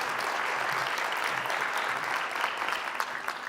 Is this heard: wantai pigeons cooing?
no